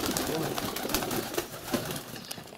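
Pigeons in a dovecote cooing and shuffling close by, soft throaty calls over a busy rustle of wings and feet, with no one talking.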